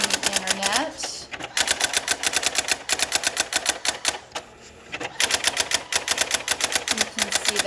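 A Brother GX-6750 electric typewriter runs its self-test, hammering out rapid, machine-gun-like bursts of keystrikes with brief pauses between lines, loud and close; a voice talks faintly beneath.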